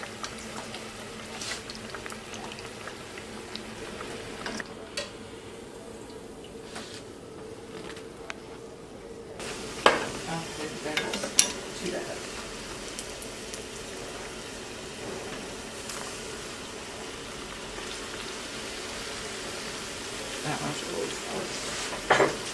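Beignet dough sizzles in hot frying oil as it browns, a soft crackling hiss carrying on throughout with occasional sharper pops, at low level.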